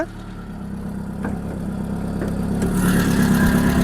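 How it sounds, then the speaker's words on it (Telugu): A Maruti Zen car engine runs steadily at idle, a low continuous rumble that grows slightly louder and fuller toward the end, with no voices. "ఒకసారి ఇంజిన్ కూడా మీకు స్టార్ట్ చేసి చూపిస్తాను"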